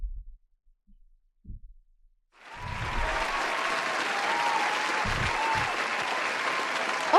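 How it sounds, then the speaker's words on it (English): After a couple of seconds of near silence with soft thumps, an audience breaks into dense, steady clapping that stays loud and even for several seconds before the clip ends. "Oh, clapping."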